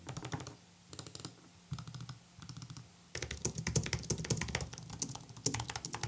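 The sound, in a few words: typing on computer keyboard on a wool desk mat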